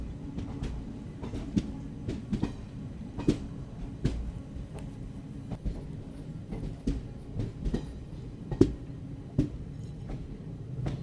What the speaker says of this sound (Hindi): ये जो ICF का ट्रैक साउंड है ना, ये बहुत ज़बरदस्त लगता है